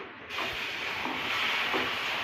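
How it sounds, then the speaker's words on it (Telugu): Boiling water poured onto roasted semolina (rava) for a homemade sweet sets off an abrupt, steady hissing sizzle that holds strong to the end. "రవ్వ మొత్తం ఉడకటానికి తగ్గని నీళ్ళని పోసుకోవాలి"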